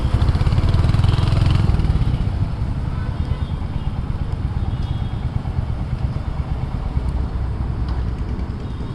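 Royal Enfield Hunter 350 single-cylinder motorcycle being ridden, its engine thrumming steadily with heavy wind rush and rumble throughout, a bit louder at the start.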